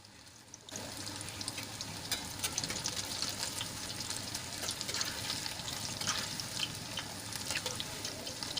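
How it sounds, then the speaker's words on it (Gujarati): Chili pepper fritters (mirchi bhajiya) fry in hot oil with a steady, dense crackling sizzle that runs continuously at moderate level, close by and without any voices. "આપણે બધા મરચાના ભજીયા તળાઈને તૈયાર થઈ ગયા છે"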